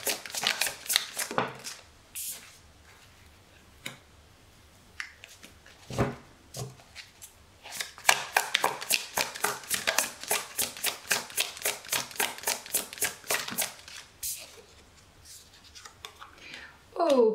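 Tarot cards are laid down and handled, with soft repeated slaps, flicks and a quick run of riffling shuffles, close and fairly quiet, under occasional soft speech.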